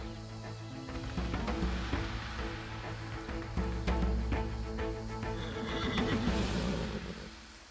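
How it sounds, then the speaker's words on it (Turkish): Horses neigh loudly and repeatedly, with hooves clip-clopping and stamping close by in a steady, busy mix; no talking is heard. "Bu atlar kendi haranızda yetiştirdiğiniz atlar mı?"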